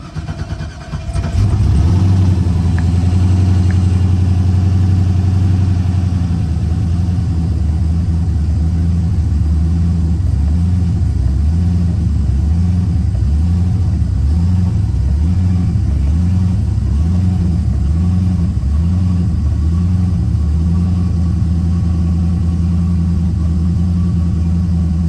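A car engine cranks and catches after its fuel pump is primed, then settles into a loud, close idle with a rhythmic, pulsing lope that continues steadily, with no talk.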